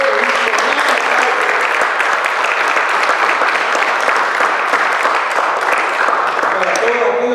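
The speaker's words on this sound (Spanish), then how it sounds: "Aquellos que nos ven, por favor, un buen aplauso, un fuerte." Church congregation at Iglesia Bautista Montesión giving loud, sustained applause, a thick, even roar of clapping that fills the whole stretch, with voices mixed in underneath.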